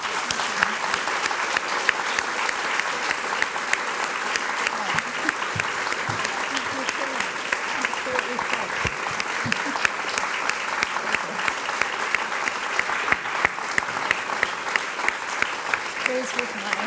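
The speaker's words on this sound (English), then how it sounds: "can I please ask everyone to show their appreciation for Christina one more time with a round of applause" A lecture audience at a school speaker series gives a long, sustained round of applause, a dense even crackle of many hands holding steady throughout, with faint voices beneath.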